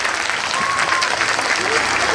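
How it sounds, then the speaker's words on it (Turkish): Children clapping for a classmate at a summer Quran course opening ceremony in Istanbul, a steady dense patter of small hands that continues without pause, with some voices faintly underneath. "Hani alkış, hani arkadaşınıza alkış."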